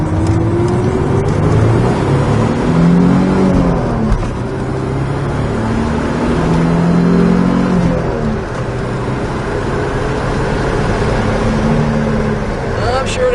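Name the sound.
1984 Datsun 300ZX sports car driving and accelerating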